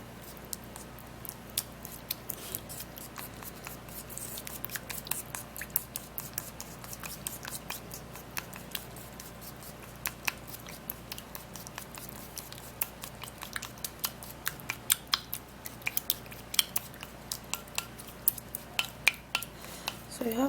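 Ingredients being stirred in a bowl while preparing a home remedy: soft, irregular scraping and clinking of a utensil against the bowl, close and fairly quiet, with little else around.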